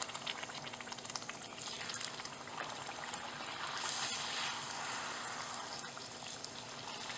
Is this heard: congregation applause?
no